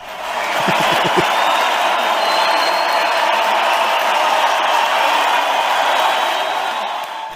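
Steady crowd applause on a technology podcast, loud and continuous for several seconds, a dense wash of many hands clapping with a few low thumps near the start.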